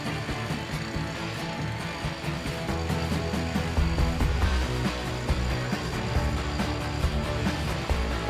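A brush cutter fitted with a UNIK trimmer head clears brambles and weeds over buried paving stones, giving a continuous whirring motor drone with choppy, rattling bursts as the line strikes growth, fairly close and steady.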